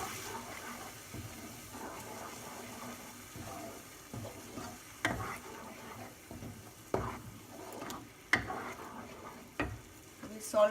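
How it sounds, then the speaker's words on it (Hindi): A paste of green coriander, chili, garlic and ginger fries in a pan for a fish curry, with steady soft sizzling broken by stirring scrapes and a few sharper clinks. "अभी 3-4 सेकेंड के लिए इसे अच्छे से फ्राई करना है।"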